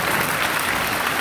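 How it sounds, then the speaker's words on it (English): Students in a school group applaud together in a brief, dense burst of clapping that stays at an even, loud level throughout. "You guys, you give yourselves a round of applause."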